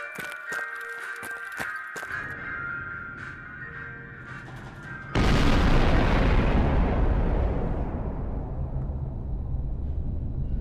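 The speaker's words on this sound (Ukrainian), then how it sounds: "Підрив ядерної бомби меншою бомбою." Garry's Mod game sounds with clicks and tones, then a nuclear bomb set off by a smaller bomb erupts in a huge explosion and deep rumbling roar that slowly fades.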